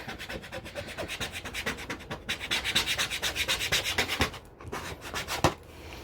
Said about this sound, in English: And you press and rub and press and rub.